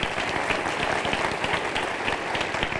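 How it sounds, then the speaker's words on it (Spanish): Church congregation applauding during a Christmas-season sermon, a sustained, even roar of many hands clapping at moderate loudness with no talk over it. "Un aplauso al Señor"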